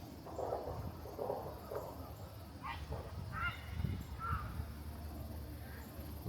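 Faint honking squawks from birds flying a short way off over Lake Taneycomo in the morning, several calls in a loose series over steady outdoor rumble.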